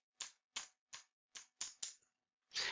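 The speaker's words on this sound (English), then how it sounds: "Now I will type in the correct spelling of the word" Someone types on a computer keyboard: six crisp, evenly spaced key taps, close and alone in a quiet room, followed by a final brief clatter.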